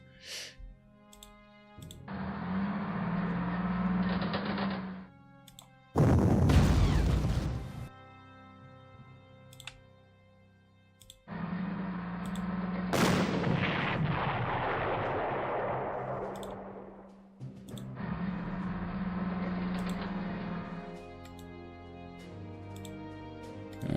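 Artillery fire in the Panzer Corps strategy game: several long, roaring blasts separated by gaps, one sharp crack followed by a decaying rumble, loud and close, with game clicks between them.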